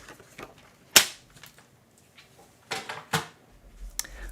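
White cardstock scrap being trimmed, probably with a paper trimmer, giving a few sharp, isolated cutting snaps spread over a few seconds, close and fairly quiet, with no talking.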